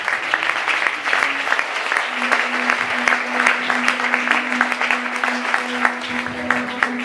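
Congregation at a Sunday church service applauding the Lord, steady clapping from many hands filling the room for the whole stretch, with a sustained tone humming underneath.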